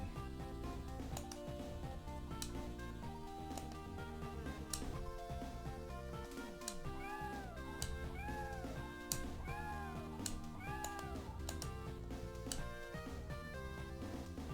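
A cartoon cat in the Game Boy Advance game Paws & Claws: Dogs & Cats Best Friends gives several short, bright meows, some in quick pairs, over looping background music.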